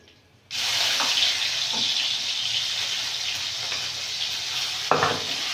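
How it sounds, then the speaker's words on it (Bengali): Shrimp fry in hot oil in a wok, a steady, loud broadband sizzle that starts abruptly and runs continuously, with a few brief scraping stirs partway through. "চিংড়ি মাছটা ভাজা ভাজা হয়ে গেলে"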